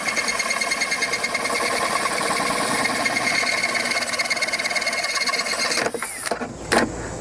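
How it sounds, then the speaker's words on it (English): A power drill bores slowly through the wall of a plastic bucket, giving a steady, close whirring grind that runs unbroken for several seconds, then a few quick stops and one last short burst as the bit breaks through. "I'm just going to drill a hole"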